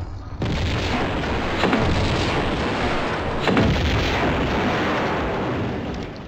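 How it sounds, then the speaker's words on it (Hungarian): Pistol gunshots fired at yetis in an ice palace in Tomb Raider 2 sound as loud, booming blasts, with two stronger reports standing out over a continuous roaring din, without talk. "Egy lövés is elég, hogy szétrobbantsam őket."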